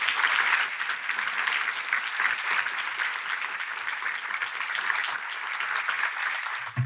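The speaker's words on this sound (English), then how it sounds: "I want to just give a big round of applause for all of them." An audience at a university medallion presentation applauds in a sustained, loud, even wash of clapping that continues for several seconds.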